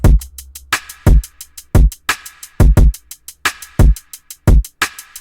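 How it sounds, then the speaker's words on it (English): Trap drum loop in FL Studio with deep booming kicks, snappy percussion hits and layered rapid hi-hats, loud and punchy in a syncopated pattern with no voices. "And together the drums sound like this."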